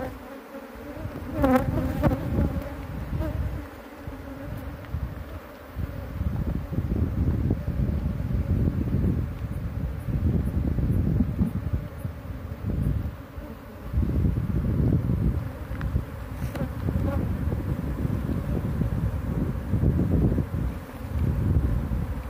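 A large swarm of bees buzzing as it enters a wooden hive box during a rural capture and transfer: a dense, continuous, close drone that holds for over twenty seconds with slight swells, no speech.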